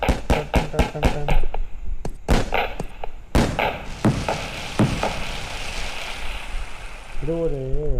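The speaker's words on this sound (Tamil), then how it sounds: "கோல்டன் டைட்டானியம் அது வெடிப்போம்." A golden titanium firecracker set off during Deepavali, a rapid string of sharp loud bangs followed by scattered cracks and crackling, then quieter pops fading out.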